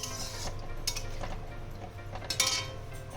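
Fried eggplant and hilsa fish pieces dropped into a thin curry in a pot, with clinks of a utensil against the pot and brief stirring sounds, close and fairly quiet.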